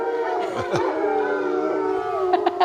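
Wolves at a sanctuary in Southern Ohio howl together, several long wavering tones layered close by and sustained, with a few short yips near the end.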